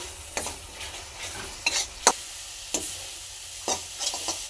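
A spoon scrapes and stirs a grated coconut and jaggery filling cooking in ghee, with several distinct scraping strokes at an uneven pace over a soft sizzle.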